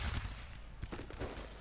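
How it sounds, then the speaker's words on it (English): Cannon and musket fire in Napoleonic Total War 3 during a battle of Borodino recreation, a dense burst of rumbling booms and crackling shots filling the short stretch without speech. "Is that a howitzer going off?"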